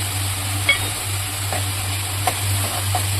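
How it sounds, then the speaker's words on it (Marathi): Turmeric and tomato sautéing with onion in a pan, a steady low sizzle under a constant hum, with a few faint clicks of the spoon stirring. "थोडीशी हळद, टोमॅटो घालून परतून घेऊया."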